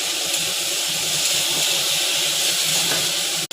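Potatoes and spices frying in a pan, giving a steady, close hiss of sizzling oil that continues without a break.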